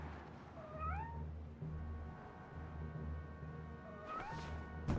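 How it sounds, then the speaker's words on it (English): A kitten in the Superman Returns videogame meows twice, short rising cries separated by a few seconds, heard over a low steady game soundtrack hum. "Another kitten?"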